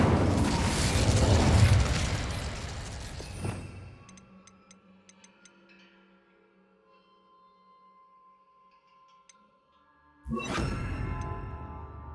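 A fire spell cast in the video game Hogwarts Legacy bursts out as a loud whooshing blast that decays into a quiet stretch of faint ticking effects, then another dense roaring burst hits near the end.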